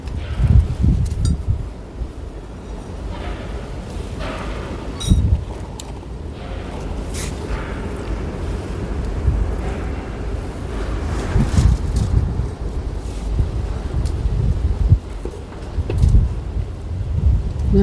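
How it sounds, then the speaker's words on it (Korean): Gusty wind blowing outdoors at a garden planting site, a steady low roar of wind noise buffeting the microphone with rustling bursts, while people talk faintly now and then. "갑자기 바람이 불었네."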